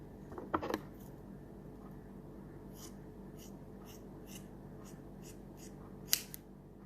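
Scissors snip through a sock, faint close-up snips with a couple of sharper clicks near the start and end over a quiet background.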